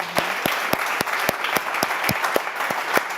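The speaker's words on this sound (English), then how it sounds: "How about a big round of applause for our winners?" Light, sparse applause for winners at a virtual charity wish-night gala, individual claps spaced out at a steady rhythm, close and fairly quiet, as if from only a few people.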